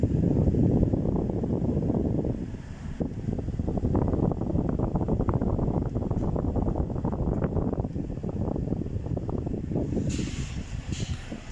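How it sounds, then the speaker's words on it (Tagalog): Strong, steady rush of air from a car air conditioner blowing hard but not cooling, a constant broadband whoosh close to the vents that runs throughout, with a brief lighter hiss near the end. "Malakas po yung hangin niya na lumalabas pero wala po siyang lamig."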